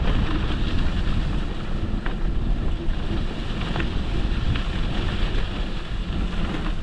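Handlebar-mounted action camera riding off-road over sandy ruts and dips, with steady loud wind buffeting and engine rumble throughout and a few brief knocks from bumps.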